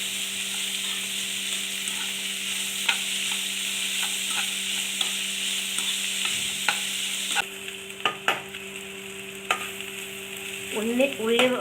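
Onion, green chili, ginger, garlic and crushed coconut fry in a pan for a mutton gravy, a steady sizzle under a constant hum, with repeated spoon scrapes and clinks and a burst of crackling near the end.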